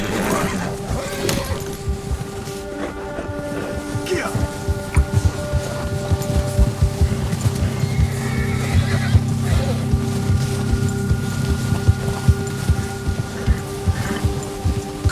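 A horse whinnies in the video game Red Dead Redemption 2, a loud near neigh, then hooves clop steadily along a trail beneath a low musical drone, with no voices.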